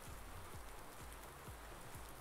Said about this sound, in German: Ihr hört es jetzt, das ist Regen.